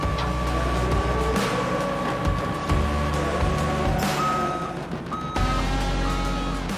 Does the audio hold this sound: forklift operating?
yes